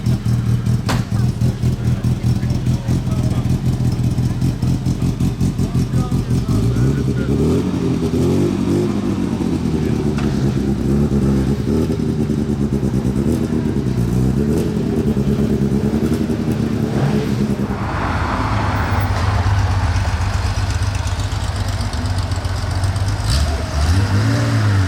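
Porsche GT2 RS and GT3 RS sports cars idle and rev in a courtyard, a loud, continuous engine drone that swells and dips in pitch through repeated throttle blips.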